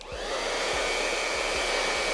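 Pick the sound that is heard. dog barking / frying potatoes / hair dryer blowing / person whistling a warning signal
hair dryer blowing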